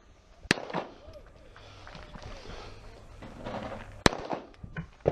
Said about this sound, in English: doing a smooth trigger pull to send the shot